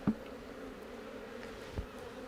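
Honey bees buzz softly and steadily in an open hive during an autumn inspection, with a low continuous hum and a couple of faint knocks.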